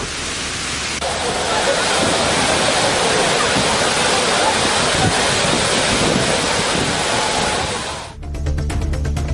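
Heavy water flow at the Agaya Gangai waterfall in the Kolli Hills, swollen after rain, roars as a loud, continuous broadband rush that ends abruptly in a brief burst of other noise.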